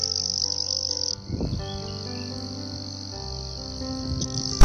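Grasshopper stridulation: a loud, steady high-pitched chirring buzz that carries on throughout, breaking off briefly near the start before resuming, with no voices.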